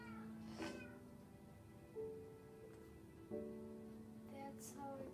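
A cat in the Minecraft video game meows several times, soft drawn-out cries at a moderate distance over a quiet background, with no talk.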